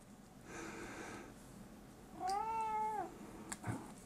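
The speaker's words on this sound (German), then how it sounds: "Entschuldigung, das ist meine Katze." A house cat gives a single clear, drawn-out meow near the microphone in a quiet indoor room, preceded by faint snuffling and followed by a brief soft knock.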